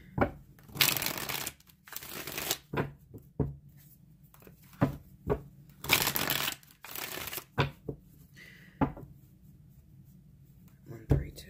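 Tarot cards being shuffled and laid out for a spread, with bursts of riffling and soft slaps of cards set down on a surface, interspersed with a person talking.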